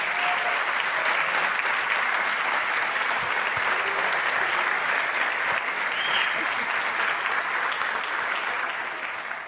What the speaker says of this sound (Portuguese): Gente, uma salva de palmas, por favor.